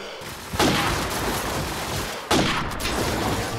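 Two loud bursts of gunfire, spaced about two seconds apart, ring out during a competitive shooter video game match at a LAN playoff, each followed by a decaying rumble over game background noise.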